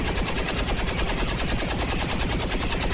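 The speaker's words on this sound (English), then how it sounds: "Missed Overwatch fire." Sustained, loud automatic gunfire from an overwatch volley in XCOM 2: War of the Chosen, a dense rapid rattle of shots running without pause.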